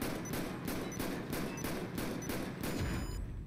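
Gunshots at a target in GTA 5 fire in a rapid regular volley of about a dozen sharp reports, evenly spaced, over a steady game background.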